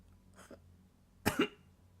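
A person coughs in a quiet room: a faint short cough first, then a louder close double cough a moment later, with no talking.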